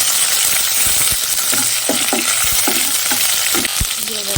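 A bay leaf, cinnamon and cloves fry in oil for pulao, making a loud, dense sizzle. Quick metallic stirring clinks repeat over the top of it.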